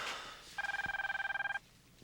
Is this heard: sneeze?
no